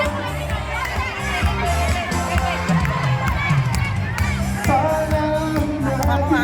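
A dense crowd of adults and children shouting and cheering together at a Philippine Independence Day friendship event in Hong Kong, loud and continuous throughout with overlapping voices.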